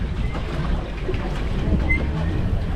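An eco boat under way on open water, a continuous low wash and hum of the hull and motor with a faint breeze, steady and close, no talk.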